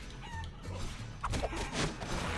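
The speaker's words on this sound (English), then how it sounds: "My home has become overrun with chickens." Chickens overrunning a home in the video game Guacamelee, clucking and squawking in short bursts with a brief crash amid game sounds.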